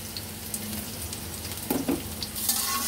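A brief burst of chopped onion and garlic frying in oil in a kadai, with a close, constant sizzle and a few scraping stirs near the end.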